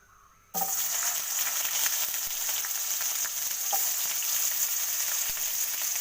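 Onion dropped into hot oil in a frying pan, a sudden loud sizzle that starts after a brief quiet moment and continues steadily and close, with faint stirring taps.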